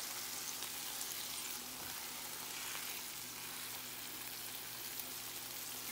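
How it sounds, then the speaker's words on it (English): A tortilla sizzles in birria broth in a pan, giving a steady, quiet hiss and crackle with faint bubbling, close up and uninterrupted by talk. "just throw your tortilla around in the broth in your pan"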